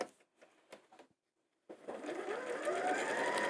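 A sewing machine stitches fabric for a quilted bag, running in a steady continuous whir after a few brief clicks and a short pause, close and fairly quiet.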